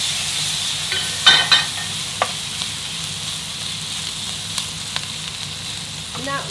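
Boiled, sliced pork stir-frying in hot oil in a wok: a loud, dense sizzle with a few sharp clanks of a utensil on the metal and scattered crackles, no one speaking.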